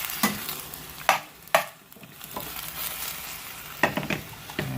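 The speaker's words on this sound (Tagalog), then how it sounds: "Igisa natin siya." Ingredients for Kapampangan dinuguan being sautéed in a pan, with a steady low sizzle broken by a few sharp scraping stirs near the start and again toward the end, no talking.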